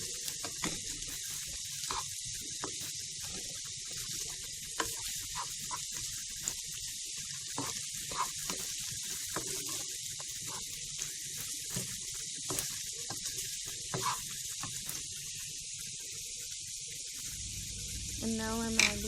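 Chopped carrot and capsicum sizzle in a pan on a low flame, a steady bright hiss of stir-frying with small pops and light scraping throughout, and a brief voice near the end.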